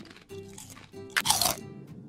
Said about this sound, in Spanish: ¿Encuentra la ensalada tan fresca, crujiente y riquísima?